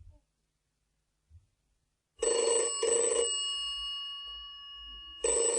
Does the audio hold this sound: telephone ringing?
yes